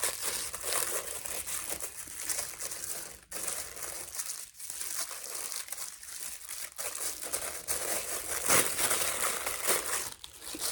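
Crinkly plastic and foil packaging of a day 3 advent calendar is torn open and unwrapped like a candy wrapper, a close, continuous rustling and crumpling with brief pauses.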